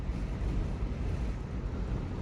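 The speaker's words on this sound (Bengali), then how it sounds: "বাতাসের শব্দ" Strong wind buffets a microphone beside a car in a parking area, a steady, loud, rumbling roar that stays constant for the whole span with no voices.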